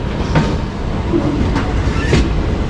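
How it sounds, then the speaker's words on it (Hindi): The Purvanchal Express, running from Gorakhpur to Kolkata, passes close alongside with a loud continuous rumble and rhythmic wheel clacks, heard from aboard another train. "गोरखपुर कोलकाता, शायद पूर्वांचल एक्सप्रेस है वो।"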